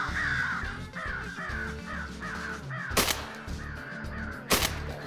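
Migrating crows caw in repeated hoarse calls, several in quick succession, while two sharp, loud bangs cut in near the end during a Carolina crow hunt.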